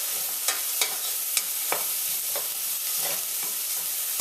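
Thyme and fresh ground black pepper sizzling in a pot, a constant bright frying hiss with a handful of sharp spoon knocks against the pot at irregular intervals, close and alone.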